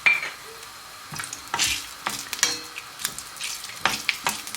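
Curry leaves and chillies dropped into hot oil for tempering, sizzling and crackling loudly up close, with bursts of spitting and a spoon stirring and scraping against the pan.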